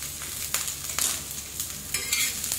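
Chopped ginger and green chili frying in oil on a griddle, a soft steady sizzle with spatula stirring scrapes and light taps, close up and fairly quiet, no talk.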